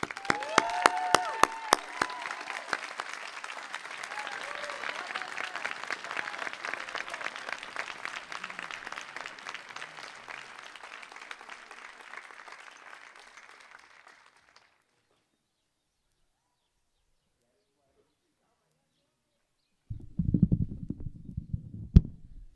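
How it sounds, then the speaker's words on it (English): Audience applause at a school closing ceremony: sustained dense clapping from a large crowd that gradually fades out over about fifteen seconds, then silence, followed by a brief burst of low rumbling noise near the end. "Un applauso a loro e tutti gli altri che hanno vissuto di UWC"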